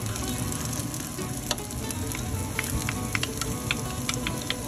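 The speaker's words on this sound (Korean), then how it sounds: "기름의 대파향을 먼저 내준 다음에 다진 마늘도 넣어주세요." Minced garlic and the white part of green onion frying in a blend of cooking oil and chili oil, a steady close sizzle with scattered sharp crackles and pops, no voices.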